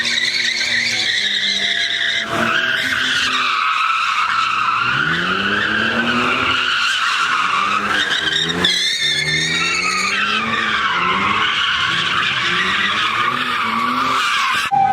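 A modified Camaro spins a donut, its tires squealing loudly and continuously over a revving engine, with pitch sweeping up and down as it circles nearby, no voices heard.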